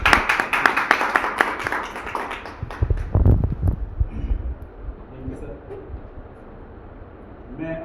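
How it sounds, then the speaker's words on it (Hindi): Audience clapping to welcome a guest to the stage at a gathering about noni products, a burst of dense handclaps in the first few seconds that thins out and fades into room noise, with some voices underneath. "जोरदार तालियों से स्वागत है।"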